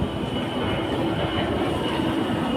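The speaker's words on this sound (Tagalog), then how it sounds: "pasakay tayo ng LRT" A Manila LRT light rail train rumbles steadily nearby, a continuous low roar with a faint high whine running over it.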